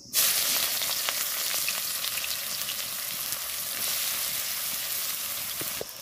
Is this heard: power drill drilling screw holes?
no